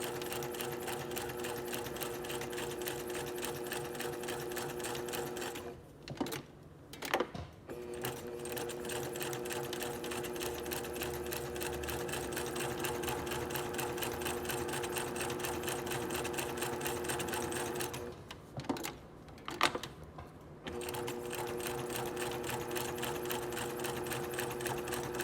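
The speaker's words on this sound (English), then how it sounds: "No back stitching is needed for our edge stitching" A sewing machine edge-stitches folded fabric binding close to the edge, running in long steady bursts with two short pauses where the motor stops and restarts, fairly close and moderately loud.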